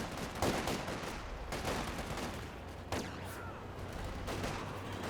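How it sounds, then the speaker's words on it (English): Dishka heavy machine gun firing in Company of Heroes 2 battle, sustained bursts of rapid gunfire with several sharp onsets, loud and continuous against a busy combat backdrop. "Dishka firing away, hitting that Panzer Grenadier"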